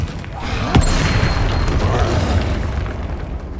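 Spell explosions from Hogwarts Legacy's combat magic: a sharp blast near the start, then a dense, rumbling roar of magical impacts that stays loud and continuous to the end.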